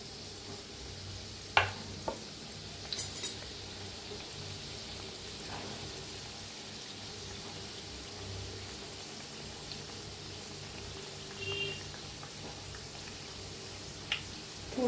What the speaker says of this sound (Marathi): तेल चांगलं गरम झाले. तळूया आपण.